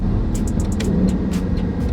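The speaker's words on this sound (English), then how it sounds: "Those crispy downshifts sound so good." A Lexus LC500 engine downshifts while driving, giving a steady low rumble with a quick run of sharp crackling pops partway through and no talk.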